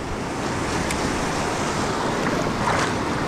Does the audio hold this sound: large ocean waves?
yes